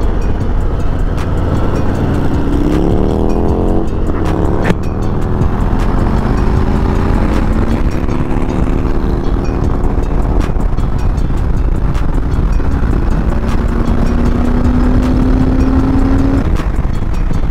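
A 2021 Harley-Davidson Heritage Classic cruiser on a test ride, with a loud close engine rumble and rising pitch as the throttle opens through the gears, plus steady wind roar.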